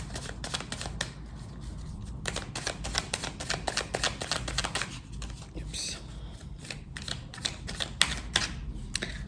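Tarot cards riffle and snap through repeated close shuffles and a cut, crisp papery bursts coming in quick rhythmic runs with brief pauses, loud and near.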